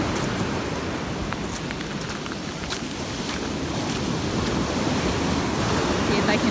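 Ocean waves breaking onto a shell-covered Gulf beach after Hurricane Sally, a loud continuous rushing surf with wind buffeting the microphone, heard close and steady throughout.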